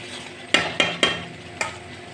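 Masala frying in oil in a pan for arbi patta sabzi, with a steady close sizzle broken by four sharp scrapes of a spoon stirring at uneven intervals.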